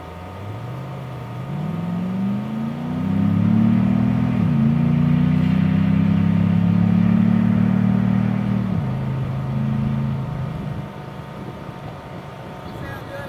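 A race car's engine accelerates straight off the trailer at a test-and-tune session, a low rising roar that climbs in pitch, holds loud and steady for several seconds, then shifts down and fades as it pulls away.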